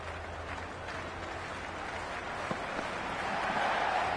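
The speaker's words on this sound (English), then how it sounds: "already the crowd is up and about" Stadium crowd in the Cricket 26 video game, an LSG vs RCB IPL match, keeps up a steady, even roar of cheering and applause from start to finish, swelling slightly near the end.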